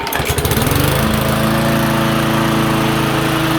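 Petrol lawnmower freshly tuned with a new spark plug, air filter and oil, cranking with a few quick chugs and catching on the first pull, then settling into a loud, steady close-up engine drone.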